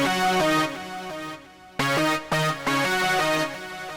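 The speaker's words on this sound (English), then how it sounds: "just called synth brass. Here's what that sounds like." Harmless synth brass preset playing solo: a few bold sustained synthetic brass chords with a brief gap, then choppy rhythmic stabs, bright and close.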